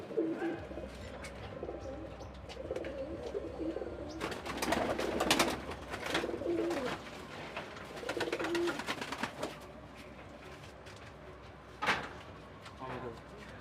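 Domestic pigeons kept for sale coo in soft, low, repeated calls close by, with wing flutters and shuffling bursts, while someone talks over them.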